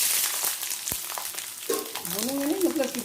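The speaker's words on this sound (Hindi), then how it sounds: "मिर्चा, प्याज, लहसुन, ये सबको डाल करके थोड़ा भूनेंगे" Chillies, onion and garlic sizzle and fry in a hot pan, a steady close crackle with a few stirring scrapes and no voices.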